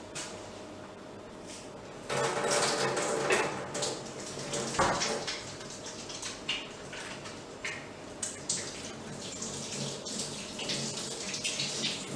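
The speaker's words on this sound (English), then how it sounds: "And I'm going to wash my hands" Tap water runs steadily into a sink as hands are washed after wearing gloves in a home kitchen, a close, continuous splashing rush with a brief louder burst midway.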